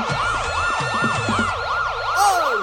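An ambulance siren wails in a steady rising-and-falling sweep, loud and close throughout, with a second higher tone briefly joining near the end and no talking.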